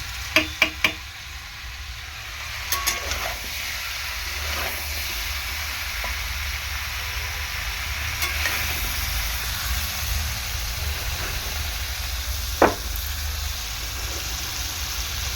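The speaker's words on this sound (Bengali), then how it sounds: "মোটামুটি সবজিটা ভালো কষানো হচ্ছে" Mixed vegetables sautéing in a pan for khichuri, a steady soft sizzle with a few clinks of the stirring spoon near the start and one sharp knock later.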